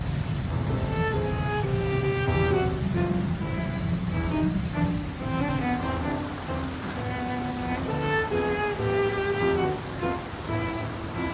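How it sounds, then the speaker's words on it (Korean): Heavy rain pours steadily outside a hotel room in Nha Trang, a dense constant hiss and patter heard alone throughout. "비가 많이 오니까"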